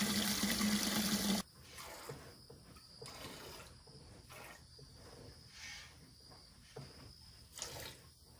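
Water running steadily into an animals' drinking container on a hot Texas day, a continuous close trickle and pour, with insects chirping faintly in the background.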